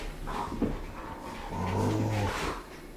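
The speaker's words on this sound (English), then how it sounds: "Sorry if you hear my dogs." Dogs in a room at home give short whimpers and low growling noises, fairly close, with a sustained whine-like tone in the middle and no talk over them.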